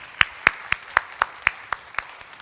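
Applause at a Christian leadership conference in a church, heard as a handful of sharp, evenly spaced claps, about four per second, fairly close with little crowd behind them.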